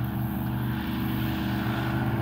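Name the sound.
airboat passing on a lake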